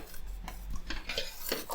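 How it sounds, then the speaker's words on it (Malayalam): A utensil scrapes and stirs through a thick jackfruit payasam mixture in a pan, several soft strokes at a steady pace, quiet and close. "ഇത് നമുക്കിങ്ങനെ ഇളക്കിയിട്ട് അലിയിച്ചെടുക്കാം"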